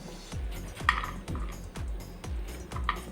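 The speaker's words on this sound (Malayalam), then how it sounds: "ഇതുപോലെ ചെറുതായിട്ട് നമ്മൾ അരിഞ്ഞെടുക്കുക" A knife thinly slices carrots on a cutting board, making about seven crisp, evenly spaced chops that are close and clear, with no voices.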